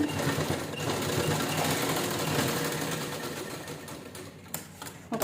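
A sewing machine stitches a strap onto a one-sided purse made from two zippers, running in a fast continuous chatter before slowing and stopping with a few clicks.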